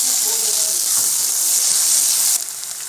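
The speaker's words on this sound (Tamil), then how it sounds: "இப்போ நம்ம வந்து புதினா எல்லாம் போட்டுக்கலாம்." Mint leaves tossed into a hot pan after ginger-garlic paste give a loud, steady close-up sizzle and hiss that drops sharply near the end.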